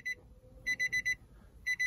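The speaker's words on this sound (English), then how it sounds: "Now it's going to beep for a while" Repeated electronic beeping in quick bursts of four, pausing between groups, clear and close inside a 2016 Nissan Juke 1.5 dCi after the engine is turned off.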